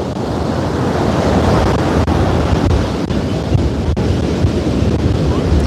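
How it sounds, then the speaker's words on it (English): Strong wind buffets the microphone on a beach while ocean surf rolls in steadily, a loud continuous roar with no talking. "Wow, so windy."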